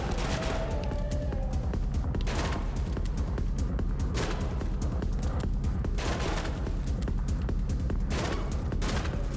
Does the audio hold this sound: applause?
no